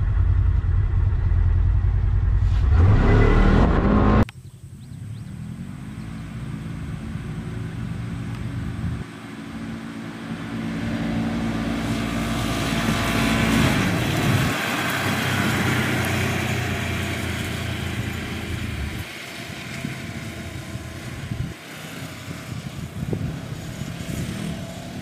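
A 2020 Polaris RZR Highlifter side-by-side, tuned and fitted with a clutch kit, roars loudly at first, then settles into a steady droning engine run with small dips in revs, close by and with no talk.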